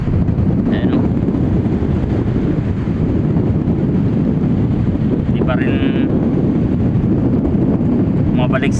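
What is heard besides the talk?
wind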